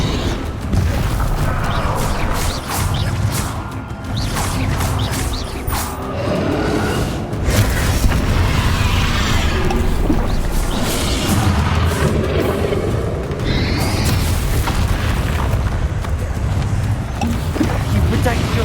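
Explosive Bombarda blasting spells in a Hogwarts Legacy duel, loud repeated booms and crashes amid constant battle noise, with voices talking over the action.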